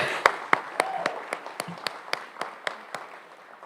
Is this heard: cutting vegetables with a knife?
no